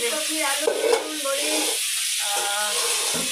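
Fish frying in a pan in a home kitchen, a close, steady hiss and sizzle that dips briefly midway, with a voice talking over it near the start.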